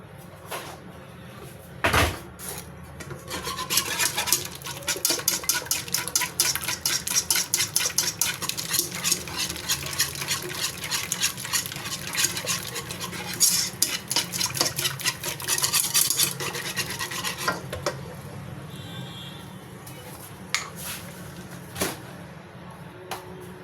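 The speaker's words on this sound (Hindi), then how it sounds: "दही को तकरीबन फेंट लेंगे" Yogurt whisked in a bowl, a fast continuous run of light tapping and scraping strokes against the bowl, close and steady for most of the time with a few louder knocks.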